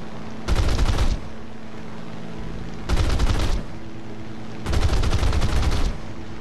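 Three loud bursts of rapid aircraft machine gun fire in War Thunder, from a P-38, each about half a second long, separated by short pauses over a steady engine drone.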